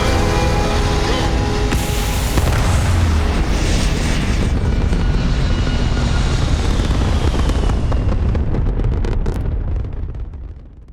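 A spaceship lifts off in the video game Starfield with a loud, continuous engine roar that holds for about ten seconds, then fades out at the end.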